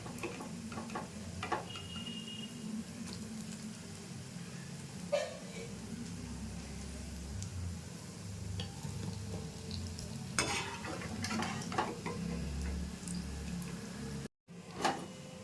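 Balushahi sweets frying in hot oil give a soft steady sizzle, with occasional clinks and scrapes as they are lifted out of the pan.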